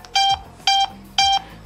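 An HW22 Plus smartwatch gives three evenly spaced, loud electronic beeps while placing a call, each a short bright tone with brief gaps between.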